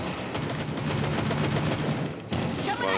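Rapid automatic gunfire in Rainbow Six Siege, dense sustained bursts of shots close up, continuing almost without pause and cut by a brief gap near the end.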